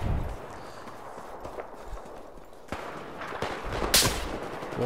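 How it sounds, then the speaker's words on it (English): Gunfire during a Battlefield 4 squad deathmatch, with scattered shots and sharp cracks over a constant rumbling game background, one louder burst near the end. "I'm being shot at."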